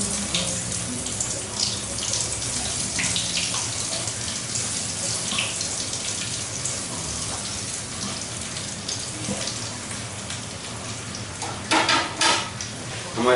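Chicken nuggets sizzle on low heat in a pan, a steady, dense crackling hiss that runs throughout with a few brighter bursts near the end, no voices.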